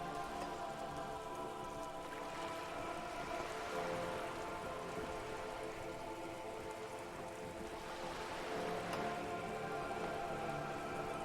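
Steady rain falls on surfaces in the Disco Elysium video game, a soft continuous patter and drizzle at low level that never lets up, with no voices.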